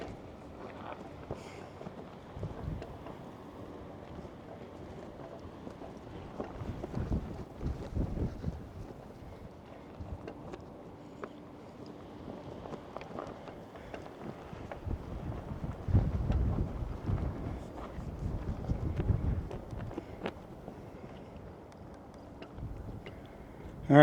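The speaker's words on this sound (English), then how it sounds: "As you can see, it's pretty windy out here today." Wind blows outdoors in Tonopah, Nevada, in uneven gusts, buffeting the microphone with low rumbling bursts that swell and fade over a quiet background.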